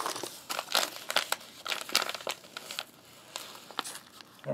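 Foil wrapping from a Canadian hamburger meal kit crinkles and crackles up close, with irregular bursts of rustling and crumpling throughout and no talking.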